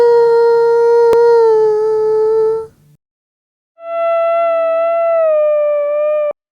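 A singer's own voice, sung into a microphone and stretched and pitched into eerie sustained vocal chops, sounding like a howl; two long, steady tones separated by a short gap, loud and alone.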